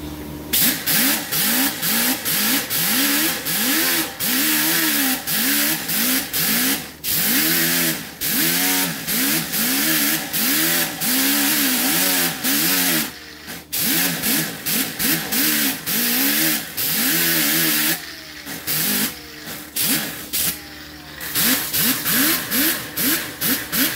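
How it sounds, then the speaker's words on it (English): Power grinder working on a Ford Edge body panel during hood and door repair, a loud continuous whine rising and falling in pitch as the tool is pressed and eased off, with brief pauses between passes. "Alright, so let me grind this now."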